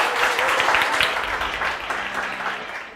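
Audience applause at a startup demo day after a pitch, a full round of clapping from the crowd that gradually thins and fades toward the end.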